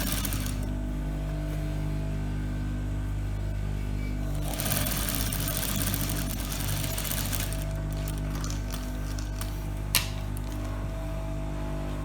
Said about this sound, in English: then I'll sew it down with ½ inch, the way I sew the other leg